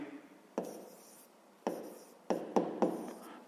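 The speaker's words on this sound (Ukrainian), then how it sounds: "Ну і записуємо дріб." A fraction being handwritten for a fifth-grade math exercise: pen or chalk strokes scratch out in five short, distinct bursts with quiet gaps, the last few coming in quick succession, close and fairly soft.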